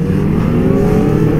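A Honda CBR 600RR sports motorcycle revs loud and close in one continuous engine roar during a wheelie on a Sydney ride.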